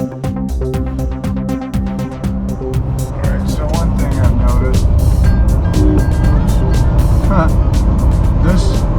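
Mercedes running on waste transmission oil, cruising in fourth gear while passing other traffic; steady loud engine and road drone throughout, rising slightly, with someone talking over it.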